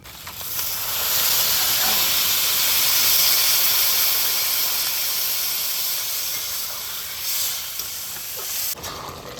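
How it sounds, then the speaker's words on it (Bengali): Water hits hot frying duck meat and throws off a loud rush of hissing steam that swells in the first seconds, holds steady, then slowly fades, close up and with no voices. "এবারে মাংস কষানো হয়ে গেছে, এবার আমি জল দিয়ে দেবো।"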